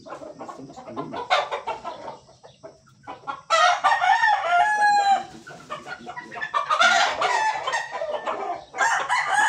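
Gamefowl on a game farm crow and cluck close by, with several loud, drawn-out crows breaking through repeated short clucks and scattered calls from other birds, and no talking.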